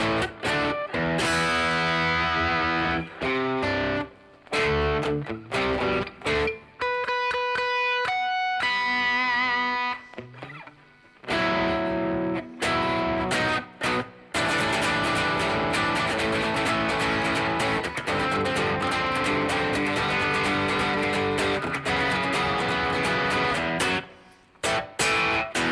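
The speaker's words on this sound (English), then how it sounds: "the reason I played that rhythm part is you wouldn't normally play that with distortion, but you can hear with that kind of tone" A distorted electric guitar plays a heavy rhythm part with chugging chords and brief sustained notes and pauses, loud and steady throughout with no talking.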